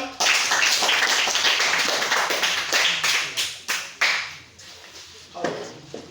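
A group claps steadily for several seconds, then the applause thins into a few scattered claps before fading.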